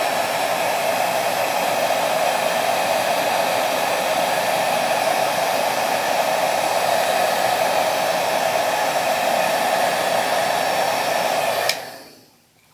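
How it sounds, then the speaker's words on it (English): A heat gun blows steadily at close range, soft-baking a Genesis polymer sculpture, its even roaring hiss running unbroken for nearly twelve seconds before cutting off abruptly into silence. "that's how you do a soft bake with a Genesis-like heat gun"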